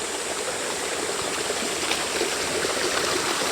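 Stream flowing below a home garden, a loud, steady babbling rush of water heard close and unbroken, with no voices.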